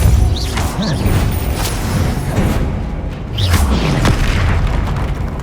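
Spell blasts in the Hogwarts Legacy video game: loud, repeated booming bursts with whooshes and crashes, rolling one into another without pause.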